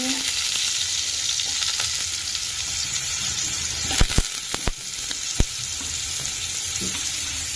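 Papaya and potato pieces frying in hot oil for a chicken stew, giving a loud steady sizzle throughout, with a few sharp clacks of a spatula or pan partway through.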